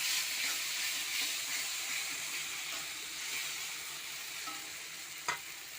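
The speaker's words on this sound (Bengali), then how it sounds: "মশলা সব ভেজে নেব।" Ground spices fry in a pan for a bhola fish curry, a soft continuous sizzle and hiss with faint stirring scrapes and one sharp utensil knock near the end, no voices.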